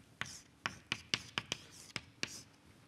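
Chalk tapping and scraping on a lecture-hall blackboard during a physics lecture, a series of about eight sharp, quiet strokes spaced irregularly, faint and close with no talking.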